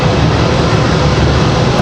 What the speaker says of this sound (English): Moxie 208 coming in from Columbus, Ohio, A220 300